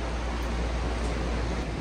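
An electric fan runs close by in a hot room, giving a steady, loud broadband whoosh with a low hum that continues evenly throughout with no other sounds.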